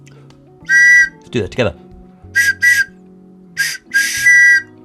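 A person whistles a series of short, clear, high notes in separate phrases while solving the Cosmic Artefact Inscape puzzle box, with brief speech between the whistles.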